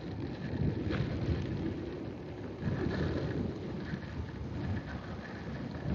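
Rain easing after a heavy tropical downpour near a mall, a steady broadband hiss of falling water and wet ambience with wind rumble, continuous and fairly faint.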